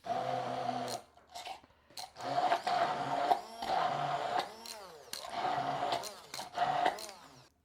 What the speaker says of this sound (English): And now we'll take our stick blender